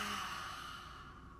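A slow, breathy exhale during a breathing exercise, heard close and soft, trailing off gradually over a second or so.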